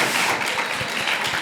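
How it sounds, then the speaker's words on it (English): Audience applause at a conference, a dense, steady wash of many hands clapping throughout, loud and close with no pauses. "Give a really big applause to our company."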